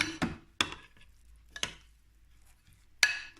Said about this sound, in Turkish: Suyumuzu ilave ettik. Şöyle bir karıştıralım.